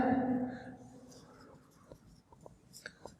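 Chalk or marker writing on a board during a discrete mathematics lecture, soft scratchy taps and strokes following a brief spoken phrase from the lecturer at the start, fairly close and quiet.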